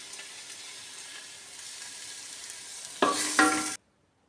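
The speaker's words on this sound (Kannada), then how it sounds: "ಒಣಗಿದ ಮೆಣಸು, ಜೀರಿಗೆ, ಒಳ್ಳೆ ಮೆಣಸು ಹುರ್ಕೊಳ್ತಾ ಇದ್ದೀನಿ" Dry red chilies, cumin and black pepper roast in a pan for a rasam, giving a faint dry rustle that swells into a louder burst of sizzling and stirring before stopping abruptly.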